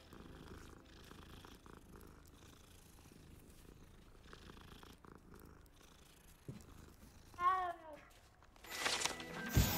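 A cat purrs softly in Hogwarts Legacy, with a short chirping meow near the end before a burst of bright game effects takes over.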